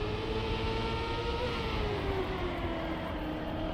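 A Trackmania race car's engine drones steadily at high revs, its pitch sliding gradually downward as it shifts up a gear, loud and close with no talking.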